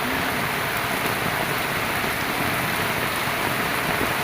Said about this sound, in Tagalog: Kaya kahit po malakas ang ulan